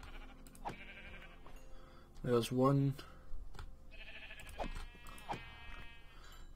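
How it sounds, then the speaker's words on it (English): Sheep in Minecraft bleat in a few short wavering calls over quiet game ambience, with a voice speaking around them. "So there's some sheep, so I'm going to kill some."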